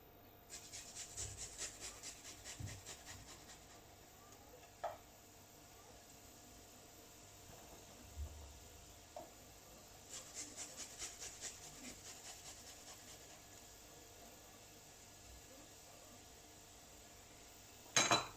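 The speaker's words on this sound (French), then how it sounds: "Je vais venir râper mon ail." Garlic grated by hand over a dish being prepared with a drizzle of olive oil, giving bursts of close, dry rasping strokes in quick rhythmic runs separated by quiet pauses, with a few light knocks.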